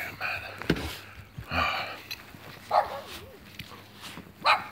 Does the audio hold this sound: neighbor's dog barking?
yes